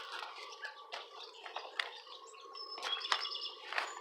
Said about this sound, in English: This is a angry parent robin